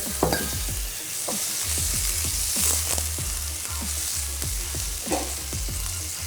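Chicken sizzles in a hot 28 cm pan as water is added. A steady frying hiss runs under a regular rhythm of stirring scrapes, with a low hum in the background and no speech.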